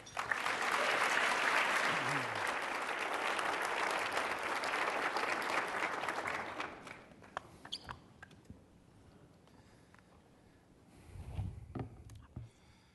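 Audience applause greets the Insiders panel at a Canadian Club Toronto event: loud, sustained clapping from a large room for about six seconds, then fading to scattered claps and quiet room noise.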